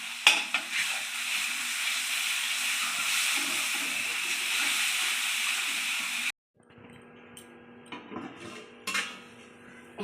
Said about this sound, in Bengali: মশলাটা আমার ভাজা হয়ে গেছে, মশলাতে তেল বেরিয়েছে